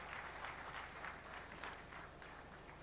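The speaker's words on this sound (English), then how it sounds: "I request all of you to give them a big round of applause." Audience at a university convocation ceremony breaks into steady, sustained applause, many hands clapping together in a large hall, moderately distant and fairly quiet.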